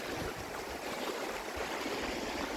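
Glacier meltwater rushes in a stream at a roadside rest stop off the Trans-Canada Highway, a close, loud, continuous broadband wash heard on its own.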